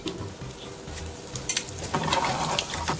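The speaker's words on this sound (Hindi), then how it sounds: "देसी घी अच्छे से गर्म हो गया, इसमें मैं लहसुन ऐड करूँगी।" Garlic sizzles in hot desi ghee in a pan for a home-cooked moong masoor dal tadka, a steady close crackle with the frying growing livelier midway and faint stirring scrapes.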